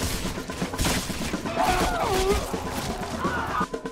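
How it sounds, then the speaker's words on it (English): Musket volley fire from massed ranks in the Napoleonic-era game Guts and Blackpowder, a dense, continuous crackle of overlapping shots that blends with shouted orders and voices throughout. "All ranks fire!"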